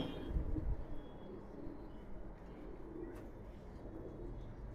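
Male high-flyer pigeons coo softly in a loft, a low steady murmur of overlapping calls with no voices.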